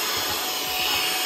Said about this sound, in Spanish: Una maravilla de aspiradora.